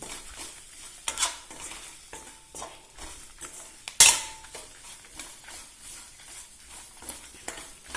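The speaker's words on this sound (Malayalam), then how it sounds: "മല്ലിയിലേക്ക് ഒരു പച്ച മാറുന്നത് വരെ ഒന്ന് ഇളക്കി കൊടുക്കണം" Coriander being stirred in a hot pan, with a light sizzle, scraping strokes and a sharp utensil clack midway, all close and fairly quiet.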